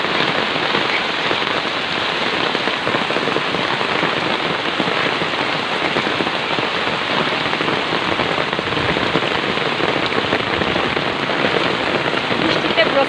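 Steady rain pours down outdoors during a rainstorm, a dense even hiss of drops on surfaces that continues unbroken throughout.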